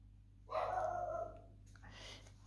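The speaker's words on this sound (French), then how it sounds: "elle est pénible d'aboyer" A female dog barks insistently indoors, demanding food, in a burst of loud close barks that fade into a softer whine over low room hum.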